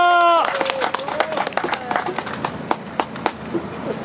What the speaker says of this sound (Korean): 박수 한번 쳐보시오.